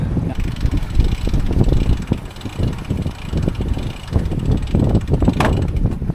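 Strong gusting wind buffets the microphone aboard a sailing yacht running under genoa into an anchorage, a loud continuous rumbling roar that rises and falls throughout, with a brief sharp knock near the end.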